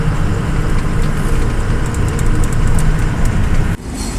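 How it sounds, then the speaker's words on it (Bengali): A train rumbles past a truck stop at dawn on the road to Thakurgaon, a loud, steady low roar of wheels and engine lasting throughout, with faint high squeals above, cutting off abruptly near the end. "ঠাকুরগাঁ ট্রেনের সাথে দেখা হয়ে গেল"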